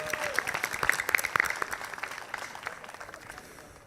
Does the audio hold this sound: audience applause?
yes